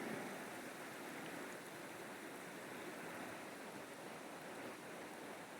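Water flows steadily in a continuous, even rush, with no voices, like a nearby stream running over rocks.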